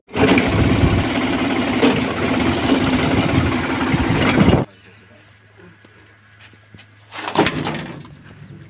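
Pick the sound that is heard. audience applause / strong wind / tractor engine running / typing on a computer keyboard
tractor engine running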